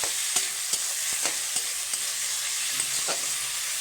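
Spices and fish heads frying in a pan for a spicy Bengali chochchori, stirred with a spatula scraping at a steady pace over continuous close sizzling.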